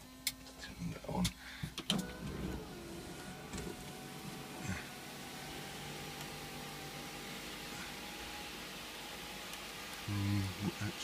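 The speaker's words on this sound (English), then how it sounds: "Sunroof does work." Electric sunroof motor on a 1991 Range Rover Vogue SE 3.9i V8 running in a steady whine for several seconds, faint and close, between clunks and handling noises at the start and end.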